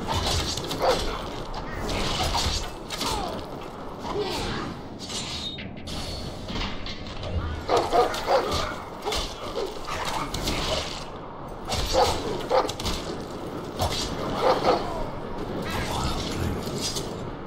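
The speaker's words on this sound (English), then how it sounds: "We've rarely seen these dogs so close to Castle Black." Dogs bark and whimper amid creaking and mechanical ambience in the Game of Thrones RPG video game near Castle Black on a cold, desolate wall, with scattered barks over a steady, busy background.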